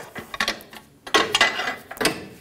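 A ratchet on a 19 mm socket works the ball joint nut on a 2010-2014 Subaru Outback front control arm, giving short bursts of quick metallic clicking, close and fairly loud, in three or four groups.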